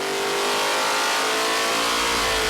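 A 572 Super Street Hemi V8 roars at full throttle on an engine dyno during its final pull, a loud, dense, unbroken engine howl held for the whole stretch.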